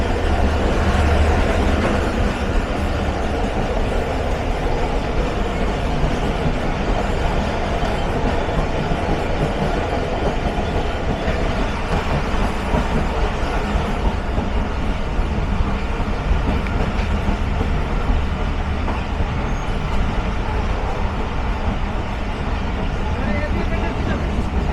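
The Khyber Mail passenger train rolls out of Multan, a loud, continuous rumble with rattling carriages and wheel clatter close by, and a voice talking over it.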